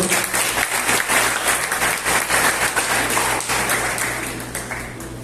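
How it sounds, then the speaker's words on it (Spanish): Loud, sustained applause from a church congregation fills the space, dense clapping rising steadily and tapering slightly toward the end, with a low hum running underneath. "Ahorita un fuerte aplauso al Señor."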